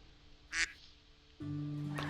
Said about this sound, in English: Quack.